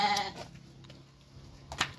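Two tethered hornless goats at a livestock sale bleat close by, one clear wavering bleat at the start and a shorter, sharper call near the end, with quiet shuffling between.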